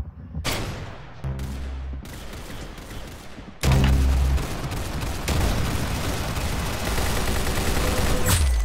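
Loud bursts of gunfire from the Roblox game Arsenal crack in rapid volleys, with a heavy boom partway through followed by sustained automatic fire, close and dense.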